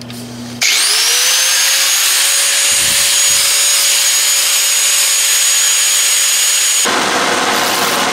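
A power tool cuts steel flywheel bolts to shorten them for a diesel engine to Jeep transmission adapter, producing a loud, steady high-pitched whine that spins up abruptly and runs continuously for about six seconds before stopping.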